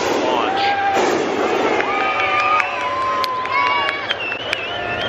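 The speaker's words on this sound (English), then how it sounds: "there's always a big cheer every time we get one in the air" A crowd at the Albuquerque Balloon Fiesta cheers and shouts as a hot air balloon lifts off, with loud, close voices rising and overlapping throughout.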